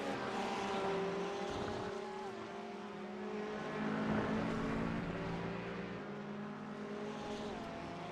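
GT3 race cars, including a number 35 Porsche, lapping Brands Hatch in a racing video game, engines droning steadily with shifting pitch as several cars run together throughout.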